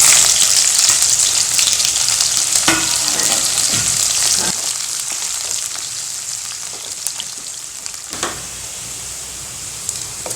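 Sliced onions hit hot oil already crackling with cinnamon, cloves, star anise, bay leaf and cumin for a coriander pulao, giving a loud steady sizzle close up that eases slightly midway, with occasional scrapes of stirring and no talking.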